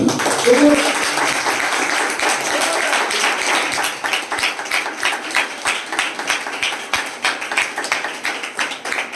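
A church congregation at a pastor-led worship service claps loudly and continuously. The crowded, uneven clapping grows more distinctly rhythmic toward the end, and a voice can be heard faintly under it.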